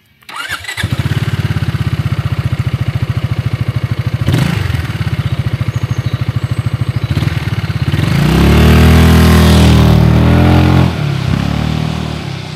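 A Zontes 350E motorcycle engine fires up and settles into a rapid, throbbing idle, then revs hard several times while riding on a wet road, loud and close throughout.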